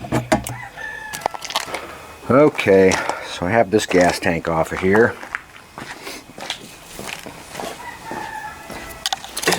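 A chicken crows loudly nearby in a workshop setting, a long drawn-out cock-a-doodle-doo followed by scattered clucks, while someone talks before and after the crow.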